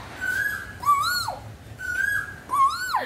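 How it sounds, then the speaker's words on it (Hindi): Asian koel calling outdoors, clear repeated rising whistled notes that swoop up and then break downward, two paired phrases about a second apart, fairly close and loud over quiet background. "अरे कोयल की आवाज"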